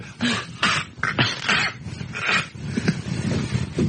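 A man vocally imitates a dog straining and choking against a choker chain, producing rough, gasping, hacking rasps in repeated bursts, loud and close.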